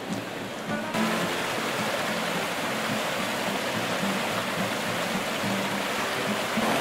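Mountain stream in the Andes rushing steadily, a dense broadband wash of flowing water that stays close and even throughout, with no voices.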